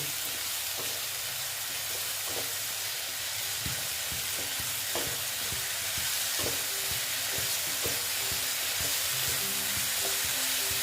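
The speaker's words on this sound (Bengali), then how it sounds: "একটু জল দিয়ে দিচ্ছি জল দিয়ে মশলাটাকে ভেজে নিচ্ছি" Spice paste fries loudly in a pan for a ghugni curry, a little water added so it hisses and sputters in a dense, constant sizzle, with intermittent scraping and tapping of a spatula against the pan and no voices.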